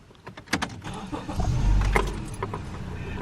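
A car engine cranks and catches in the dark along a rural road, a brief starter whir followed by a steady low idle, close and fairly quiet, with a few clicks and rustles before it.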